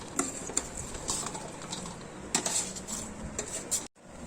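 Raw mango pickle pieces being stirred into homemade spice masala in a metal vessel, with a run of close, sharp clinks and scrapes of spoon on pot, ending abruptly.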